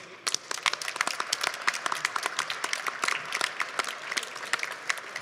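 An audience at a startup competition final applauds the first-prize winners, a lively burst of many individual claps with distinct sharp hits over a crowd wash, steady and fairly near throughout.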